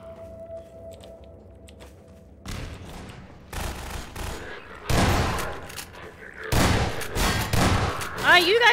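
Shotgun blasts against Combine soldiers in the Half-Life 2 mines, several loud booming shots spaced a second or so apart, growing heavier, with game noise and a voice in between.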